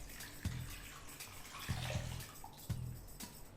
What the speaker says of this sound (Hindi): हम ये कढ़ाई में वापस पानी ले लेते हैं